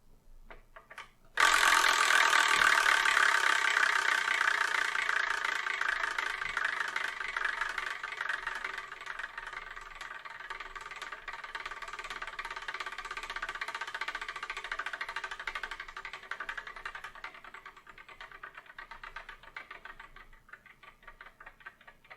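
A prize wheel spins to pick the next manga to review: a sudden loud start becomes a long, dense rattle of rapid ticking that slowly fades over about twenty seconds.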